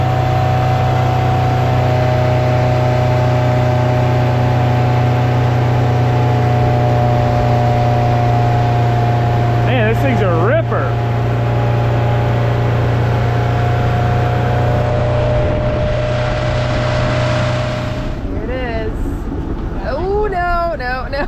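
An outboard engine on a Raven 195 boat idles with a steady, loud low hum, and a voice talks over it near the end.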